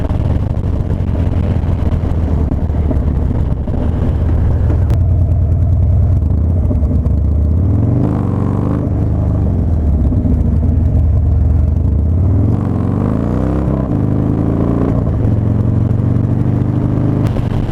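Motorcycle engine held on the throttle during a wheelie, a loud continuous rumbling drone that rises and falls in pitch as the revs change, with wind noise throughout.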